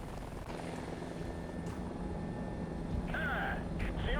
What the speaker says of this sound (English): Really like flying with helicopters.